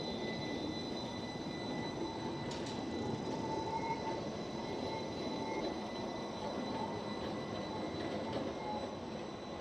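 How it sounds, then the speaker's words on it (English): A Portland Metro train rolls past near the aerial tram terminal with a steady rumble, rail hum and faint wheel squeal, loud and continuous throughout. "there is a Metro tram that goes right here, right next to the tram terminal."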